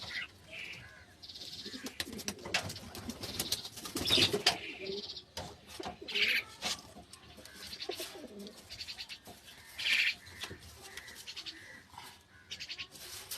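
Giribaz pigeons, including a sky-blue one and a red one, coo softly in a home loft, with low murmuring calls among rustling, flapping wings and scattered bird sounds, faint and close.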